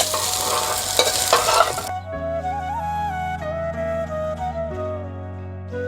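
Fried potato and cauliflower are stirred in a pan, with a loud sizzle and scraping for about two seconds before it cuts to background music.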